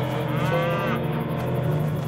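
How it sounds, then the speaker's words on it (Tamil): A cow moos loudly and repeatedly in a Tamil film scene set at a home during a power cut, a long, drawn-out bellow with harmonic tone running through the whole clip, close and prominent, with no talk. "திரும்ப திரும்ப மாடு கத்திட்டே இருக்குது"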